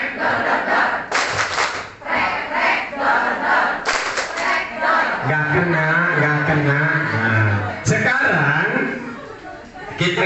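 A class plays a rhythmic clapping game, with short bursts of group claps mixed with loud shouted chants and excited children's voices throughout.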